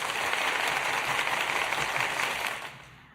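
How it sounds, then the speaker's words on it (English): A canned clapping-and-cheering sound effect plays as a dense, loud wash of applause that holds steady, then cuts off quickly near the end. "Claps. I got cheers."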